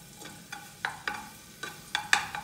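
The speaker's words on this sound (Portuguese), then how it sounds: "aí eu vou passar esse alho" Garlic cooks in a pan while being stirred, with a soft sizzle beneath a series of sharp scraping and clinking strokes of a utensil against the pan, spaced irregularly.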